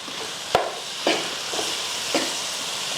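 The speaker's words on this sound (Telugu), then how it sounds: "అల్లం కూడా వేగింది టమాటాలు వేసుకుంటాడు" Ginger and tomatoes sizzle in a pan for an egg curry, giving a steady close frying hiss broken by a few soft knocks of stirring.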